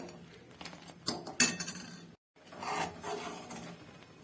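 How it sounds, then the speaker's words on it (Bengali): Spoon stirring thickening milk and sugar in a pot, scraping and clinking against the metal in irregular close strokes, with a brief silent gap midway. "দুধটা কিন্তু অনেকটাই ঘন হয়ে গেছে আর আমি কিন্তু সমানেই এটাকে নাড়তে থাকছি।"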